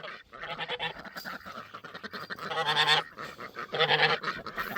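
Several ducks quack and honk in a busy, overlapping chorus, close by, with louder bursts toward the end and no talking.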